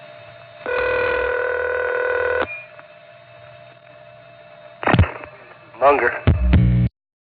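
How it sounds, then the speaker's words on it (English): A telephone ring on a 1974 trunk line in New York's 914 area, a steady harmonic ring burst followed by silence, then squealing, warbling feedback tones that rise and cut off sharply. "In this case, the sound of the ring is enough to drive the trunk into feedback."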